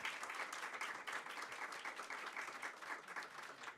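Audience applause at a women's empowerment event, a continuous wash of many hands clapping, fairly faint and distant, steady throughout with no voices standing out.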